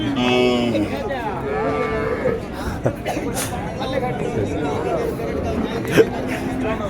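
Cattle lowing at a busy livestock market, several drawn-out moos rising over a constant murmur of crowd chatter and nearby talking.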